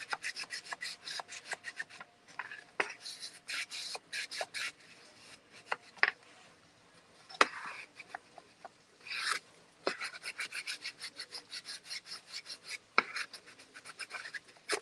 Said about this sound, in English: I'm gonna get a clean scraper and use this to rub this down, get it nice and smooth.